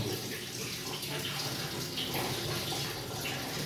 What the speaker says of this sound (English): I'm just doing a little test to make sure the water drains towards the waste hole